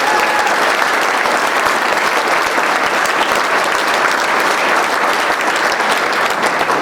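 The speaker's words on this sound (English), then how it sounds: "Let's give a round of applause to the staff" A crowd fills the room with dense, sustained applause at a campaign kickoff speech, a steady wash of many hands clapping at once with no pauses.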